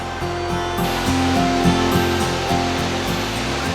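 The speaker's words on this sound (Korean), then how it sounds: "저기 우측으로 딱 꺾어진 데가 바로 이용소 그 폭포 용소 폭포입니다" Yongso waterfall in Deokpung Valley, Samcheok, gives a steady, full rush of falling water, loud and unbroken, heard alone with no voices.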